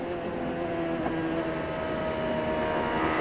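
A CART race car engine heard on board Jimmy Vassar's car, a loud, steady droning buzz at sustained throttle, heard alone.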